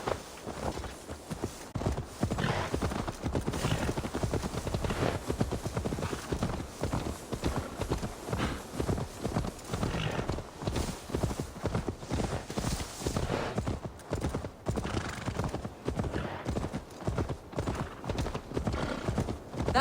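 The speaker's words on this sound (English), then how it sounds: "Now to deliver Magni his horse." Steady clip-clop of horse hooves at a trot, continuous and close, with an occasional whinny over game ambience in Assassin's Creed Valhalla.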